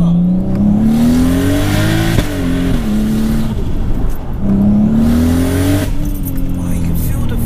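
Turbocharged 535 BHP VW Golf R32 accelerating hard, engine note climbing loudly through the gears with brief drops at each shift, heard from inside the car.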